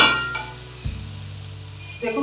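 Ginger paste being stirred and fried in a pan for a navratan korma, a soft sizzle with a spoon clinking against the pan near the start and again at the end.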